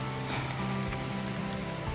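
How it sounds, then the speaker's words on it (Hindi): Rain falls steadily on the road to Kohima, a dense, even hiss throughout, with a low engine-like hum beneath it. "और बारिश भी हो रही है"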